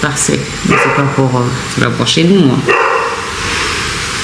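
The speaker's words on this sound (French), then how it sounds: "là c'est mon chien qui aboie parce qu'il y a un taxi qui s'est arrêté devant notre" A pet dog barks in repeated bursts at a taxi stopped outside the family home, loud and close, while someone talks over and between the barks.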